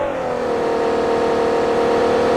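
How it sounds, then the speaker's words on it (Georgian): A car engine in a video game drones and revs loudly and steadily with a sustained, slightly rising tone. It runs continuously and close for the whole stretch, with no talk over it. "ეს მანქანა იყო, ხო?"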